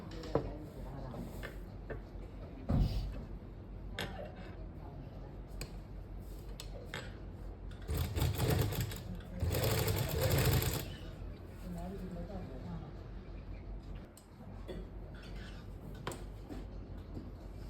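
A sewing machine stitches lace onto fabric, running in a loud sustained burst of rapid mechanical chatter amid softer clicks and handling noises, with someone speaking at times.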